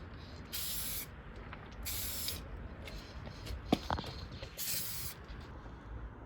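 A spray gun misting a fine pearl paint coat onto a repaired Suzuki Swift Sport door outdoors, heard as about four separate bursts of airy spray hiss with short pauses between them and a faint click in the middle.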